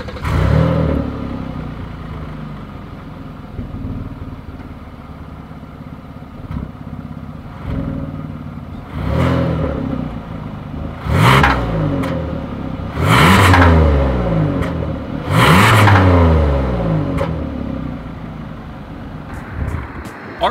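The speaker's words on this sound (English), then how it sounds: "As always, here is that exhaust clip." A 2020 Kia Telluride with dual chrome exhaust tips revving, several rising and falling engine revs building to loud peaks around the middle and end, close by with no talking.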